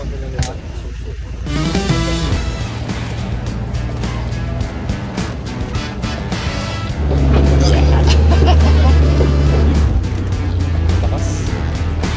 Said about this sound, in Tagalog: inimbitahan tayo na sumama sa isang lugar dito sa Alacapan gamit itong kakaibang sasakyan ng GV Florida